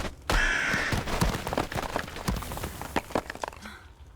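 Crows caw repeatedly in the video game Darkhaven, sharp calls scattered over a busy, dense game soundscape with impacts and movement throughout.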